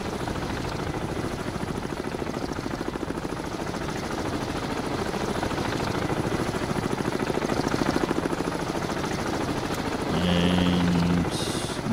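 Steady chopping rotor noise of a helicopter in the naval submarine video game Cold Waters fills the whole stretch, loud and continuous, with a brief electronic tone near the end.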